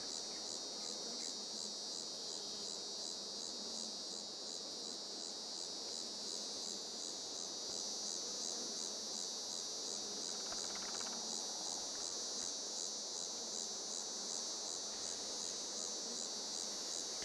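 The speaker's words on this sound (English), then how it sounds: "You hear a lot of little buzzing flies and bugs in the background too" Steady insect buzzing and chirring in the ambient soundscape of the video game No Man's Land, continuous and fairly faint, with a few brief louder buzzes passing through.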